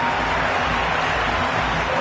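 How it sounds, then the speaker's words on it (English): A cricket crowd roars after a hat-trick wicket in a CSK versus RR match, a dense, continuous, loud wall of cheering throughout. "That's a hat-trick, and the crowd are going wild."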